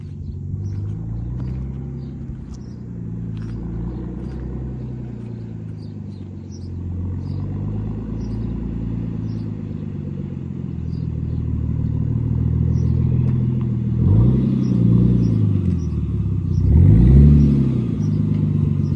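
A tuned Nissan R33 Skyline with a forged engine idles with a deep, steady rumble, then revs up sharply twice near the end, each rise loud and close.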